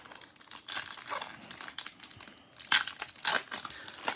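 Trading card pack wrapper for Topps Chrome 2019 Update cards being torn and crinkled open close up, a series of sharp foil crackles and rips in irregular bursts, no talking.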